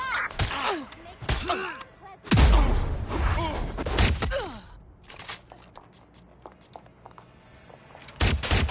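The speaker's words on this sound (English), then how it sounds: "I've heard shots!" Gunfire in the video game Watch Dogs Legion: several loud, sharp shots and short bursts scattered through the scene, with voices calling out between them over a low background rumble.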